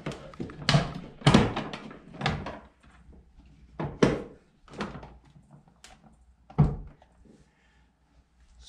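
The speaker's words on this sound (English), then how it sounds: "I'm gonna open it up so you can see inside." A fish finder housing is opened by hand, giving a series of close clunks, clicks and thuds of a lid and fittings at irregular intervals, with quieter handling between them and no talk.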